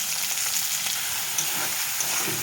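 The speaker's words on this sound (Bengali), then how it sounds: "এখন ওর ভিতরে সব মশলাটুকু দিয়ে দেবো।" Prawns and spices sizzle steadily in a wok, a continuous close frying hiss with faint stirring scrapes and no voices.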